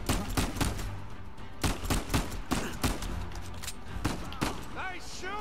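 Gunfire in Uncharted 4: A Thief's End, with repeated sharp gunshot bursts in uneven volleys close by and loud, mixed with game dialogue voices.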